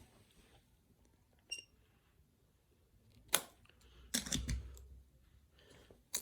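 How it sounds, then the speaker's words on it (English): Brief metallic squeaks and snips from a pair of scissors, a few short bursts separated by quiet, fairly close. "how to fix squeaky scissors, because I don't like that sound"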